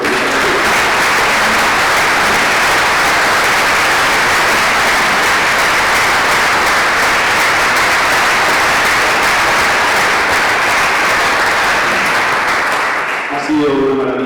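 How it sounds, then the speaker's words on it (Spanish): A round table audience at an anniversary event applauds for about fourteen seconds, a dense, steady wash of clapping that holds at full strength and then drops away abruptly at the end. "¿Podéis aplaudir?"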